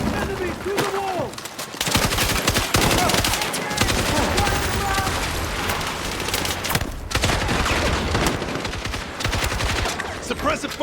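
Dense gunfire in the Battlefield 6 campaign, rapid automatic bursts and heavy shots firing almost continuously at close range, with game voices heard in the mix.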